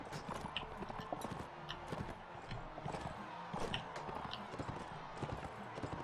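A horse galloping in the game Mount & Blade: Warband, with quick rhythmic hoofbeats at close range running steadily under faint background noise.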